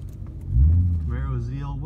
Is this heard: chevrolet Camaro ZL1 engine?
yes